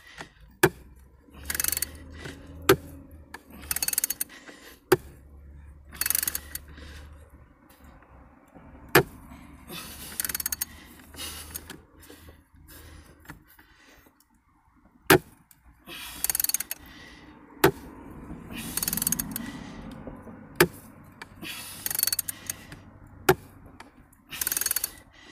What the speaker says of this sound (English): this is a 2-inch hot tap